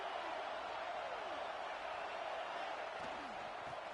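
A college football stadium crowd early in a game against USC, a steady loud roar of massed voices filling the space continuously, with a commentator talking over it.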